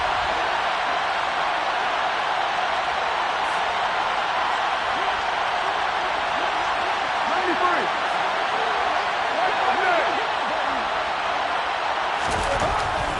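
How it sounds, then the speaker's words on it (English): Stadium crowd noise fills an indoor dome during a Saints–Raiders NFL football game, a loud, steady roar with no lulls through the whole stretch, and a brief sharper burst near the end. "The crowd here in the Dome making things difficult."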